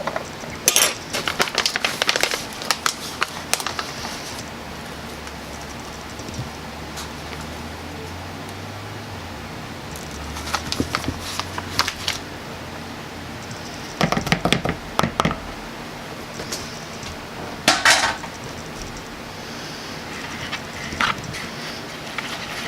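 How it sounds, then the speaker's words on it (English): A spoon stirs powdered erythritol sweetener into a fat bomb mixture in a bowl, producing intermittent bursts of scraping and light clinks against a quiet background. "So go ahead and stir in the erythritol or swerve sweetener."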